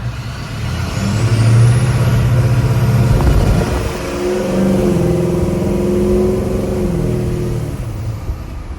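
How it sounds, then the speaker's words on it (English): A pickup truck's engine revs hard and holds a loud, rough exhaust roar, easing off and then climbing again, close by with no talking. "Let's see if we can hear the exhaust a little bit."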